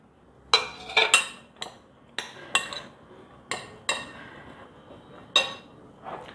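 A spoon stirs pomegranate seeds into a sweet corn salad in a bowl, producing about a dozen sharp, close clinks and taps spaced irregularly over near silence.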